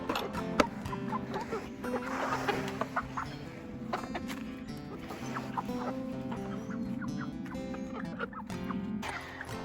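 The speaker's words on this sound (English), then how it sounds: "But first I got to feed the chickens." Chickens cluck and call at feeding time in a busy, continuous chorus nearby, with scattered sharp clucks over a steady background of fowl noise.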